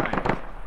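Gunfire in the video game Aegis Community Ops: a quick cluster of three or four sharp, cracking shots in under a second, fairly close.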